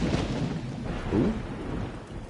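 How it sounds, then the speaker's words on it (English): A thunderstorm in the video game Dawn of Man: constant rain hiss with low rolling thunder rumbling underneath, swelling briefly in the middle. "Oh, storms are brewing."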